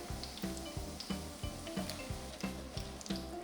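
Tofu (tokwa) frying in cooking oil in batches, a steady close sizzle with regular rhythmic ticking pops running through it.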